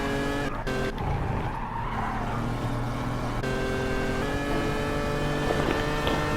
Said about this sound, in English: She got some snap oversteer and did a sick 360 to recover the car heading down the hill.